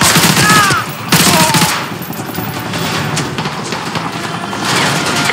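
A missile strike lands on an enemy helicopter in Call of Duty Modern Warfare 2, heard as a loud, sustained roar of explosions and crashing debris mixed with rattling gunfire and game effects.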